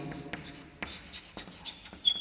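Chalk or marker strokes on a board during a biology lecture, a few short scratchy taps and squeaks spaced irregularly, quiet and close, with no speech over them.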